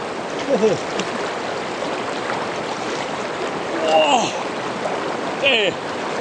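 Cold mountain river near Mt. Baker rushing steadily as a broad close hiss of flowing water, with a few faint voices and small splashes over it.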